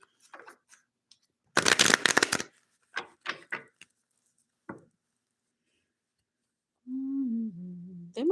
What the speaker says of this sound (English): Let me get a shuffle here.